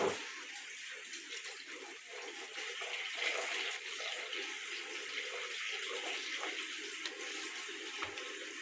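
Water pours steadily into a jug standing on a kitchen scale while a bathroom cleaner is being mixed. A continuous, fairly soft splashing stream runs for several seconds with no talk.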